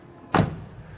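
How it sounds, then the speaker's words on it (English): A Mercedes-Benz CLE53 AMG frameless door swinging shut, a single dull, fairly soft thud with a brief rattle, heard close by and alone. "and then door closing sound"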